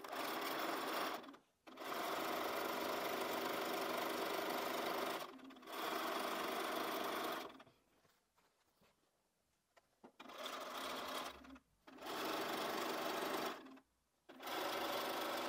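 Sewing machine chain-piecing quilt fabric strips for a Jacob's Ladder block, running in several loud sustained bursts of rapid stitching separated by short pauses, with a longer quiet gap near the middle.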